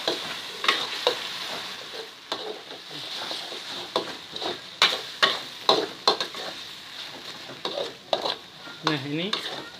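Fried chicken noodles with petai sizzle and fry in a pan while a utensil stirs and scrapes repeatedly, with irregular clattering strokes over a steady sizzle.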